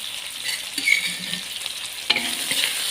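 Garlic, chilies, lemongrass, galangal and spices stir-frying in a pan for Betawi carp in spiced coconut, a steady close sizzle with a few sharp scrapes and clinks of the stirring utensil.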